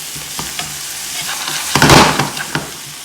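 Garlic chilli noodles are stirred and fried in a pan, giving a steady sizzle broken by scraping stirs that swell into a louder burst midway. No one speaks.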